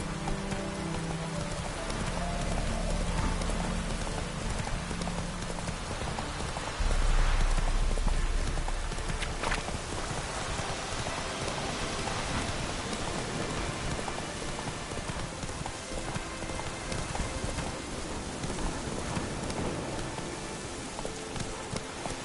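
In a video game, the horse Roach gallops through rain, steady rainfall hissing over the surface while hoofbeats thud along underneath, fairly loud throughout with a brief surge of heavier sound.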